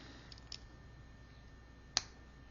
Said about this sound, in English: It can be calming after a stressful day just to hear Lego parts clicking together.